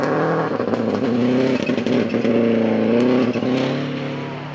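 A Subaru Canada rally car on a forest stage, its engine loud and close with rapid revving and gear changes before the sound fades slightly as it moves on.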